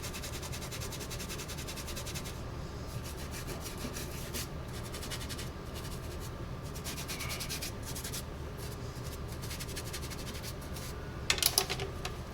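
A rag scrubs across laser-engraved wood letters in quick, repeated close rubbing strokes, a faint scratchy swishing with brief pauses and a slightly louder scuff near the end.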